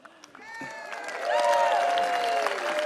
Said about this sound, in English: I will pause for applause.